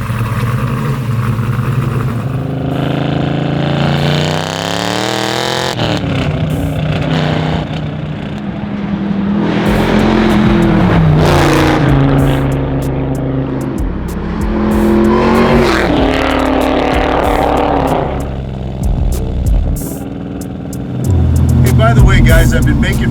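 A 750-horsepower 1969 Chevy Camaro drives on the street, its loud engine droning and rising through revs and shifts for the whole stretch, up close, with speech over it at times.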